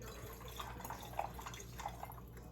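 Deep Eddies zero-carb vodka is poured into a cocktail, a faint trickle with small drips and splashes over a quiet room hiss.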